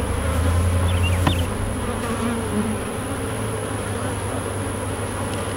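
A dense, steady buzzing of many honeybees at an open hive fills the air close by, a continuous droning hum with occasional louder passes.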